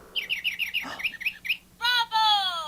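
A series of quick, bright electronic chirps from a Fisher-Price musical toy bird, followed by two longer warbling tweets, close and clear with no talking.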